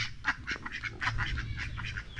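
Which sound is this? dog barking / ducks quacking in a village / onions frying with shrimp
ducks quacking in a village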